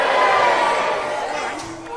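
A large audience cheers and shouts together in a broad, sustained roar that fades slightly toward the end, filling the whole moment at a debate-style science event.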